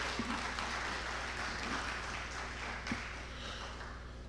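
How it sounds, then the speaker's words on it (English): A conference session audience claps steadily for a speaker, a dense wash of applause heard from within the room over a constant low hum, with no voices on top. "Please, if we are clapping for him, let's do it better, please."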